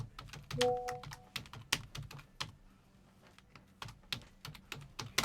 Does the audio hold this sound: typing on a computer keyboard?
yes